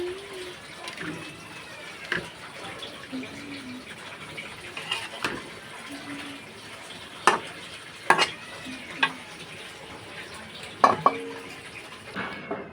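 Greens cook in a pan after a little water is added, giving a low, steady simmering sizzle broken by occasional spoon clinks, with birds chirping in the background.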